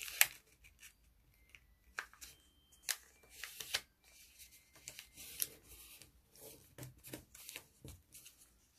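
Paper folded for an origami rose: soft, close crinkles, creases and rustles in irregular bursts, with occasional sharper snaps of paper and quiet pauses between folds.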